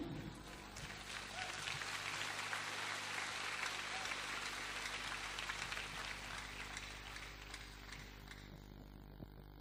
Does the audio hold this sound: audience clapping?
yes